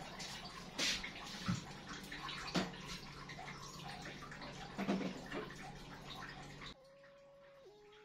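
Agar jelly poured over mini Thai fruit cakes, a soft close liquid trickle and splash with a few small knocks, ending in quiet room tone with a faint tone.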